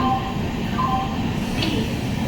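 A passenger train rolling slowly along the tracks near Belgharia, a steady low rumble of wheels and carriages close by, with a faint brief squeal partway through and no talk.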